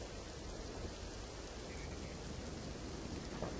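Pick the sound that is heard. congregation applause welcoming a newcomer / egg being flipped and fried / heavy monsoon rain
heavy monsoon rain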